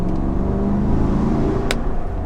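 A 2022 Jeep Grand Wagoneer Obsidian's V8 engine gives a steady, close, deep rumble that holds even throughout, with one brief click partway through and no voices.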